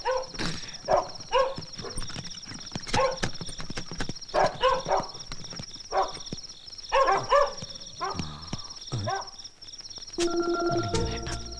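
Several dogs barking repeatedly at night, sharp overlapping barks near and farther off, with a steady high insect or cricket drone underneath throughout.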